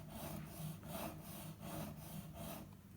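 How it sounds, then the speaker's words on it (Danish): A sharpening stone rubs back and forth along a Zwickey Eskimo broadhead arrow tip in regular rasping strokes, about five passes, close and fairly quiet with no talk. "Det er jo simpelthen bare, at man tager slibestenen der"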